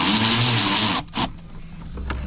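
A power tool whirs steadily while removing 8mm bolts and a clamp on a 2018 Chevy Silverado 5.3L engine bay, running loud and close for about a second before stopping, followed by faint clicks.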